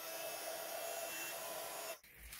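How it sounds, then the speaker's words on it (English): A heat gun blows hot air to melt silver embossing powder onto a vase: a steady, close whooshing blower roar that runs evenly before abruptly cutting off near the end. "I'm going to heat emboss that on straight onto my vase"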